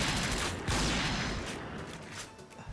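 Rapid bursts of gunfire in a team shooter video game, loud and dense at first with overlapping shots, then thinning and fading toward the end.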